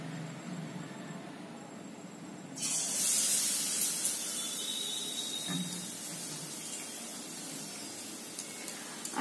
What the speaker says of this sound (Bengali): তেলটা মনে হচ্ছে গরম হয়ে গেছে, আমি একটা বেগুনিও দিয়ে দেবো